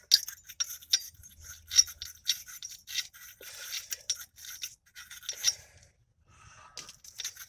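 Steady scratchy scrubbing of a wire brush against metal brake parts on a 2011 Nissan Leaf, in quick repeated strokes with brief pauses, close and fairly loud.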